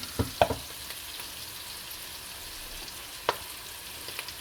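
Pork loin frying in a pan after a flip: a steady low sizzle with a few short clattering touches of a utensil near the start and once more later, close and fairly quiet, no talk.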